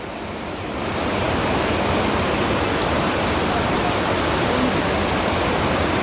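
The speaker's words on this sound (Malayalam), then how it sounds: "ഇതാ സ്കൂളിൻ്റെ ഇതിൽ കൂടെയൊക്കെയാണ് വെള്ളം വരുന്നത്." Floodwater rushes through a school building hit by a landslide in Wayanad, Kerala, making a loud, continuous broadband roar that swells within the first second and then holds steady.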